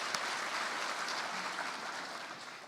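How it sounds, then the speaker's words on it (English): Audience applause for sponsors at the Central Coast Business Symposium 2019, a steady wash of many hands clapping at moderate, fairly distant level that fades slightly toward the end. "Let's give them a round of applause."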